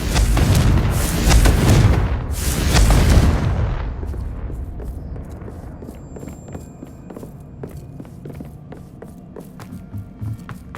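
A Confringo explosive spell from the Hogwarts Legacy video game erupts as two loud, booming blasts in quick succession, followed by a rumbling fade and scattered softer impacts and crackles over the next several seconds.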